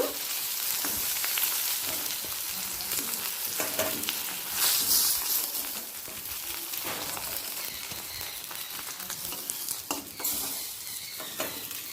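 Pieces of rohu fish frying in hot oil in a pan, a steady dense sizzle with occasional stirring clatter throughout, no talking.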